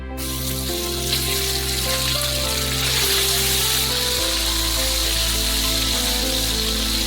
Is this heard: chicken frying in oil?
yes